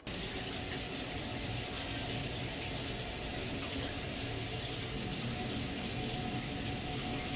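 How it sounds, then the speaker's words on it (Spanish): A hot water tap runs steadily at a household sink after a Beretta Ciao Green boiler is reset from an A01 lockout, a continuous close rushing stream with no talk. "y vamos a abrir un grifo de agua caliente"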